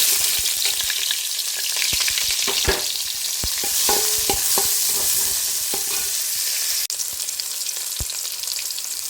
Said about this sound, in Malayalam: രണ്ട് വലിയുള്ളി അരിഞ്ഞിട്ട് കൊടുക്കും